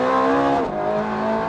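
Ferrari 430 Scuderia engine at high revs on a track lap in fourth gear, a loud, steady harmonic wail that dips briefly at a gear change before rising again, with no voices.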